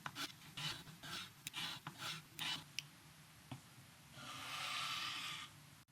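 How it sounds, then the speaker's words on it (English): A knife blade is drawn in short rasping strokes across the honing stage of a Work Sharp Combo Knife Sharpener, about eight quick passes followed by one longer, smoother scrape, faint and close with no talking. "I'm going to hone the blade."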